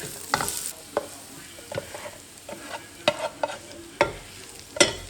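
Cashews frying in a pan, a low sizzle punctuated by a series of sharp clacks and scrapes from stirring, close and uneven in rhythm, with no talking.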